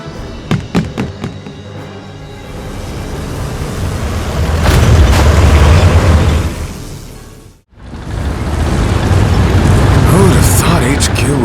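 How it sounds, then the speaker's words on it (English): A big explosion in the war game Valkyria Chronicles 4: a few sharp pops open, then a loud rumbling roar swells and holds, cuts out for an instant, and returns as a sustained heavy blast under faint background sound. "That massive explosion probably got the top brass panicking."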